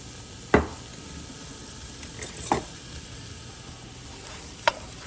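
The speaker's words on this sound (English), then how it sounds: "Give this all a quick stir. And let it saute just a little bit." Onions, celery and carrots sauté in melted butter with a steady soft sizzle, while a spoon scrapes and clinks against the pot in three distinct stirs.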